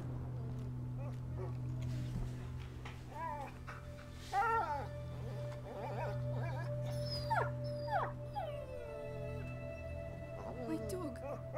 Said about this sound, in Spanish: Se está escuchando al perro de fondo